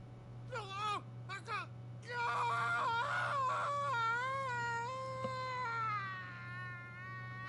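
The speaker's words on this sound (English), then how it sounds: "Doesn't really sound like a blood-curdling scream." A woman's cry from a scene in the video game Final Fantasy XVI, several short whimpering sobs followed by a long, wavering, pained wail held close and loud over a steady low hum.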